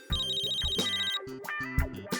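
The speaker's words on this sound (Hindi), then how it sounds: "फोन।" A telephone rings in a Hindi TV drama scene, its ringtone a repeating electronic melody that plays loudly and continuously, with no one speaking over it.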